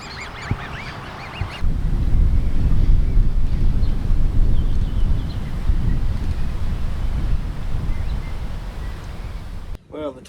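Wind buffeting the microphone while sailing a small boat on the Tamar River, a steady loud low rumble of gusts, with geese honking faintly at the start.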